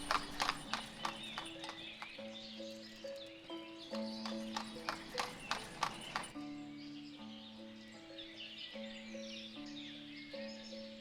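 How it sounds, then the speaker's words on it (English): Draft horses in the city-builder game Ostriv clip-clop in a steady run of hoof beats, with an occasional whinny, over a constant musical game soundtrack; no one speaks. "We've actually got 2 of our draft horses, guys."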